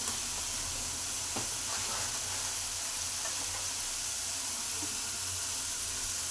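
Masala fries in a pan with a little water, giving a steady, dense hiss and sizzle throughout, close and even, with a faint tap or stir partway through.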